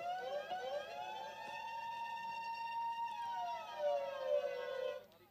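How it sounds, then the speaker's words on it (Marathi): At a tennis-ball cricket tournament, a siren sounds as the free-hit signal. It holds a steady wailing tone that rises and falls across several seconds and then cuts off near the end, with faint crowd noise underneath. "सायरन वाजले गेले"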